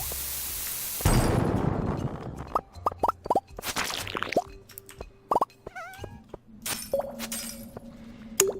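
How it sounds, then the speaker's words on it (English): Bombs going off in Stardew Valley: a broad burst of blast noise, then several short, punchy pops and cracks at irregular intervals, mixed with chirpy game sound effects and a steady tonal hum. "I might as well use up the bombs."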